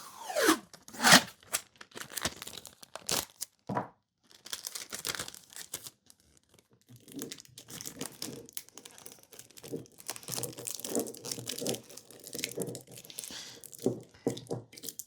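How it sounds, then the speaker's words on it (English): Adhesive tape is torn from a roll and pressed around the top of a bottle while packing, giving bursts of crinkling, ripping and crackling, close and fairly loud, with no talk. "we're going to take a little bit of tape and we're just going to tape up the top"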